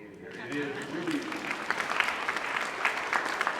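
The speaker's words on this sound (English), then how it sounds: "please give yourselves a round of applause for being here" An audience at a community meeting in a synagogue applauds itself, the clapping rising after a quiet start and continuing steadily, moderately loud with some sharper individual claps.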